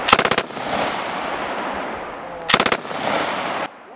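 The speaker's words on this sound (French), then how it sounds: "tirer à une minimi, bon bah déjà c'est une arme qui est super lourde, c'est pas précis, ça tire en rafale et ça te secoue bien" An FN Minimi light machine gun fires two short, loud bursts of rapid shots at a commando shooting range, each followed by a long echoing tail.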